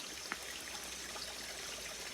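Gravity-fed water from a hill source flowing steadily in a village, a soft continuous trickling and rushing, faint and even with one small splash early on and no voices.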